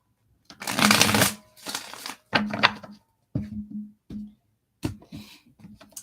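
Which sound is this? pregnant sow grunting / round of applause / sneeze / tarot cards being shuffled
tarot cards being shuffled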